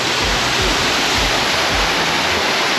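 A waterfall with water pouring down from above makes a loud, steady rushing roar, close by and continuous, with no voices.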